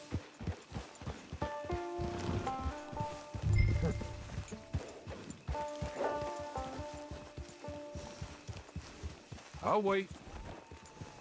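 Rhythmic clip-clop of horse hooves in Red Dead Online under music and a brief spoken line, with rain-like patter in the background.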